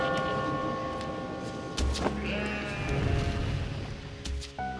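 Sheep bleat in the puzzle video game Catherine, with a bell-like tone and steady game music underneath; the bleats are mid-loud and come in brief bursts.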